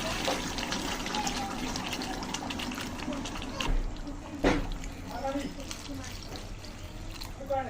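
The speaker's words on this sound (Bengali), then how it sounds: "এখন দিয়ে দিচ্ছি জল।" Water poured into a pan of cooking vegetable curry after the oil has risen to the surface gives a continuous splashing, filling rush close by, with a voice speaking over it.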